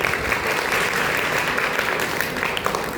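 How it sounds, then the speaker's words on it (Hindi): Audience applause at an event, a dense, even wash of many hands clapping at close range for the whole few seconds, with no voices rising above it. "अब तक ताली बजाइए"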